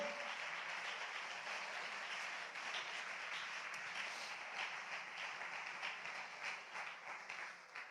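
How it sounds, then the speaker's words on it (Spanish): A church congregation gives applause to the Lord after a Bible study on Christology, a continuous wash of many hands clapping, fairly faint and distant, holding steady and thinning slightly toward the end. "¿Le quieres dar un aplauso fuerte al Señor?"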